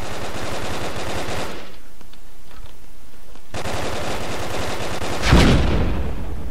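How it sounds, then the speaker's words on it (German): Rapid bursts of automatic gunfire crackle loudly in the video game Brick Force, pause, then resume, ending with a heavier explosive blast; no voices heard. "Ich höre schon Schüsse auf mich."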